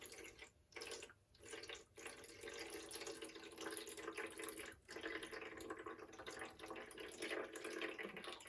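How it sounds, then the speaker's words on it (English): Tap water pouring into the reservoir of a condensate pump, a steady, close hissing splash with a few brief interruptions near the start. "start filling this puppy up with water"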